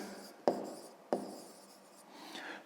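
A pen writes on paper, a soft, quiet scratching broken by two sharp taps, close and faint with no voice.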